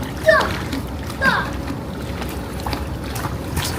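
Water splashes a couple of times close by in a hotel swimming pool in Dubai while children's voices call out, with a steady watery wash in the background.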